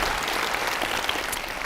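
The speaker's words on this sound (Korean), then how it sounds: "없으면 박수 한번 쳐줘요." A lecture audience claps in a brief, steady burst of applause, dense and even throughout.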